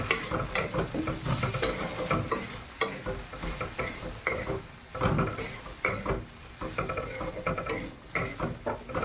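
A spoon stirs spices into okra and tomato curry in a frying pan, making repeated scraping, clinking strokes over a soft, steady sizzle, close and fairly quiet.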